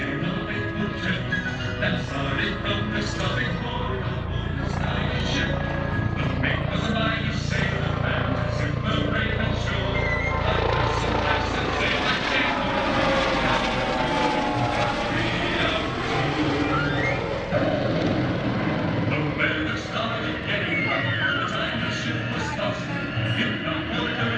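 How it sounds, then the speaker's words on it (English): A US Coast Guard MH-65D Dolphin helicopter drones steadily and loudly overhead during an airshow search-and-rescue demonstration, its engine and rotor roar constant throughout with little change in level. "coming in right now in the MH-65D Dolphin helicopter, this is your United States Coast Guard"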